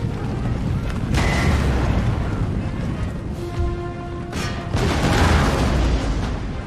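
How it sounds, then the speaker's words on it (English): Several heavy booming cannon shots over a dense rumbling battle din, with sharp bursts punctuating the steady noise, in the video game Empire: Total War. "Juicy cannon shots."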